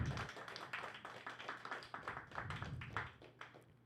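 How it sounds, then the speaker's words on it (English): Audience applause at a live entrepreneurship workshop, steady clapping from many hands carrying on for several seconds at moderate level, with no talking over it. "Rounds of applause again."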